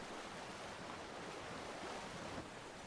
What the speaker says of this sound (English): I straight up just took a dive right into the water.